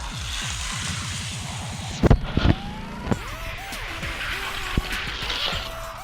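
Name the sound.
Hot Wheels toy cars Racer X and Porsche racing on track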